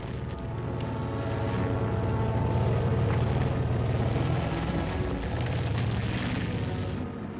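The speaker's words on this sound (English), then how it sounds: "These are the sights and sounds of a full division on the move." A full armored military division on the move, with jeeps, trucks and armored assault bridges: a continuous heavy engine roar and low rumble, loud and steady throughout, swelling slightly midway, with no voices.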